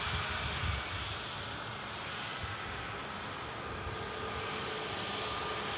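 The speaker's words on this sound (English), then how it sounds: "New Jet2 A321neo Airbus aircraft" A new Jet2 Airbus A321neo airliner roars steadily throughout, a loud, continuous broadband engine rumble with a brief swell near the start and no speech over it.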